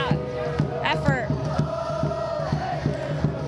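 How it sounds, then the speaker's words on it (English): A stadium crowd chants in a rhythmic, repeated pattern at a women's soccer match between Canada and the United States, with regular beats under a commentator's voice. "She gets a little chant from the crowd after that effort"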